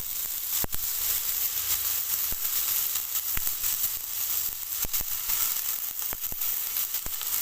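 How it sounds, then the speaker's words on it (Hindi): Minced meat sizzling steadily in fried garlic-ginger paste in a pan, a dense continuous frying hiss with occasional sharp crackles and pops, close and fairly loud, with no talking. "लहसुन अदरक का पेस्ट भुन चुका है हमारा और इसमें शामिल करता हूँ मैं कीमा।"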